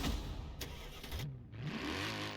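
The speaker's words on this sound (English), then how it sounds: "if we start up the engine" A Mercedes-AMG E63 S Brabus starts up in Forza Horizon 4, with a starter crank, a rising engine catch and a settling idle, heard close and clear with no talking.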